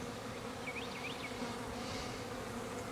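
Honey bees buzzing steadily around a beehive, a dense, even hum with a few brief higher whines of individual bees flying close by.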